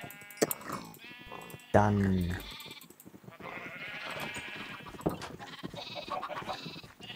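Sheep bleat in the Minecraft video game, one loud, near, wavering baa standing out among other faint bleats and game sounds while someone talks in German over much of it.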